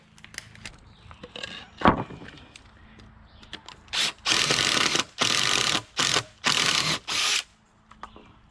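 An impact driver fitted with a 3/4 inch bit bores into wood on a barn build. Faint handling clicks and knocks come first, then five loud, close bursts of rattling hammering, each about half a second long with short pauses between.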